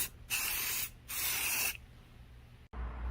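A coat of spray paint goes on in two steady, loud hissing bursts of about half a second each, separated by a short pause, with a quieter background after them and no talking.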